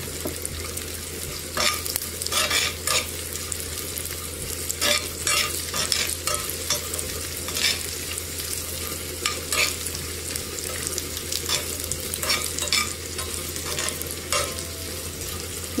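Cashews and raisins frying in ghee or oil in a pan for sweet jaggery pongal, a steady close sizzle broken by frequent scraping strokes of a spoon stirring them, with no talk.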